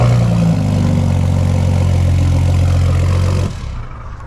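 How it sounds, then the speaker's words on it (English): A 2023 Ford F-150 Raptor 37 with dual exhaust idles up close, giving a loud, steady low engine drone that drops off abruptly near the end, with no one talking. "And this has the dual exhaust,"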